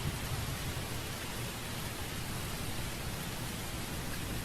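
Steady rain hisses in a video game, a dense, even wash of rainfall with no voices.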